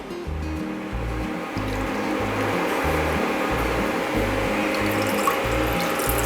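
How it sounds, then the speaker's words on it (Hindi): Half a cup of water pours into a kadai while making sugar-free Mysore pak, a loud, steady splashing rush that continues without break, with a low rhythmic background underneath and no talking. "और अब हम कढ़ाई में लेंगे 1/2 कप पानी।"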